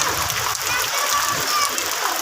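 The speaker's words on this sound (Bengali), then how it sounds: "অনেক বৃষ্টি পড়ছে, ভালোই পড়ছে বৃষ্টি।" Heavy afternoon rain pours down in a dense, constant hiss of drops spattering on surfaces nearby, with no break across the stretch.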